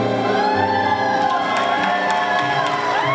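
A crowd cheers loudly and continuously during a father-daughter dance at Water's Edge in Centerport, with a steady roar of shouts and whoops and some higher voices that sounds close and fills the space.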